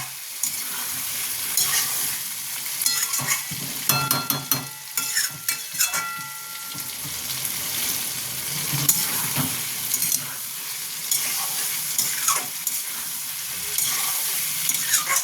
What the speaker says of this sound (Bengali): আমার কষাটা প্রায় হয়ে এসছে